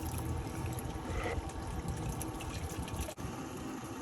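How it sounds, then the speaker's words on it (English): Water pours steadily to wash fine Nome sand, classified to 35 mesh, down into a Goldrop drop tube, a continuous close rush and splash of flowing water lasting throughout with one brief dip near the end. "Now we'll go ahead and set the drop water, bring down the dirt into the drop tube."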